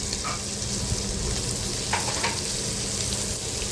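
Vegetables sauté with onion, tomato and ginger-garlic paste, making a loud, dense, unbroken sizzle close by. A few faint stirring scrapes sit on top of it.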